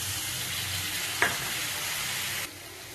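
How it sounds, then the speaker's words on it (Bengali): Ginger garlic paste sizzling with chicken in a hot pan for Kolkata-style chicken jhol, a steady close frying hiss with a brief clink of a utensil midway, the sizzle easing slightly near the end. "এবার দেব আদা রসুনের একটু পেস্ট"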